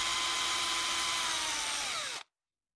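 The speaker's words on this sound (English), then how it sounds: "Squeeze and drill." A high-pitched power drill with a Phillips bit whines steadily for about two seconds, close up, drilling through a PTFE tube held in a jig, then stops abruptly into silence.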